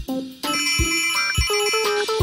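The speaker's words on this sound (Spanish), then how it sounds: "Ese curioso objeto se llama teléfono" Cartoon telephone ringing in the children's animated show Pocoyo: bright, bell-like rings in quick bursts with tinkling overtones, close and clear, with no voices.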